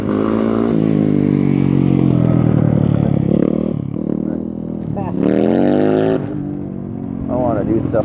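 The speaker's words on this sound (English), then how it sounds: "Hey, I hear a dirt bike. Yeah, they're doing a little wheelies right there." Dirt bikes doing wheelies ride past outdoors on a windy day, their engines buzzing loudly with rising and falling revs, partly under someone talking nearby.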